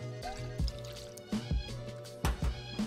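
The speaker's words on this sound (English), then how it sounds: "single shot, 30 mils of Frangelico, so hazelnut liqueur" Frangelico hazelnut liqueur is poured for a single 30 ml shot into a cocktail, giving soft wet glugs and drips in a few short bursts over a quiet background.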